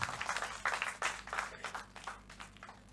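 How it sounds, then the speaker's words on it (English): An audience at a school oratory contest applauds, with uneven bursts of clapping rising and falling throughout, moderately loud and fairly close, with no talking over it. "A round of applause for yourselves."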